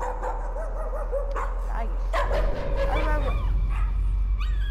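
Dogs in the horror video game Layers of Fear bark and whimper in a few sharp yips over a steady low hum, with a person talking alongside.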